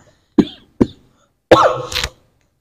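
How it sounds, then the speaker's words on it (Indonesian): A man who is feeling unwell coughs twice, short and sharp, and then gives one longer, rougher cough with some throat clearing. The coughs are close and loud against silence. "saya lagi agak sedikit batuk, kurang sehat"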